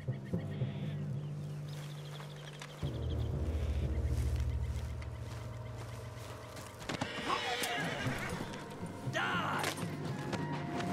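A horse neighs and whinnies in the Red Dead Redemption 2 game, with hoof clops and other ambient animal sounds around it, the whinnies loud and close over a low rumbling background.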